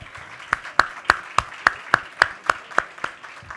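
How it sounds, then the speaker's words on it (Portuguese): Conference audience at a business summit clapping in slow, evenly spaced single claps, about a dozen sharp beats, close and fairly loud, with no talk over them. "Uma salva de palmas para elas, por favor."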